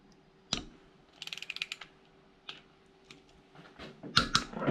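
A ratchet wrench loosens rocker arm bolts on the cylinder head of an R53 car engine, with quick bursts of clicking separated by single metallic taps and clanks, close and fairly quiet.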